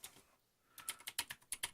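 A short burst of about ten crisp keyboard clicks comes close and clear after a brief pause of near silence, typing on a computer keyboard during a Civilization 5 game setup.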